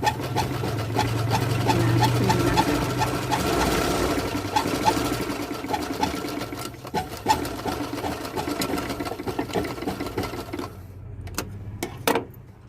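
A sewing machine runs steadily through a zigzag stitch, loud and close with a fast even mechanical rhythm, then slows and stops near the end with a few separate clicks and knocks.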